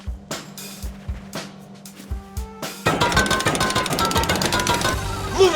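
In the video game Rust, a jackhammer chips through a base with sharp, irregular impact taps that give way to a dense, continuous rattling hammer, loud and close.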